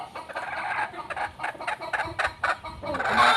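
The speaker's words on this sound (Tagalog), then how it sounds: "So kumakakat na po siya" A gull pullet hen cackling nearby, a run of repeated clucks and rising squawks in an uneven rhythm, fairly loud and close, with no talk over it.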